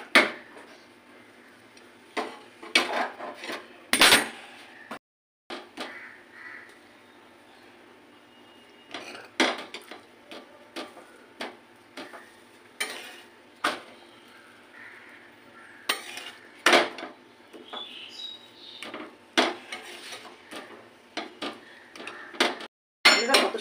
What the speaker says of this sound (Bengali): চাটুটা তেতে গেছে বলে আগে আমি একটু ভেজে নিই।